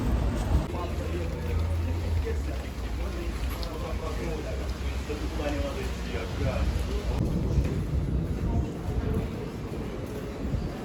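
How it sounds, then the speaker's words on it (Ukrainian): Steady rain falls outdoors at a produce market on a gloomy day, a continuous close hiss with low rumbling underneath and people talking over it. "На вулиці дощик і похмуро."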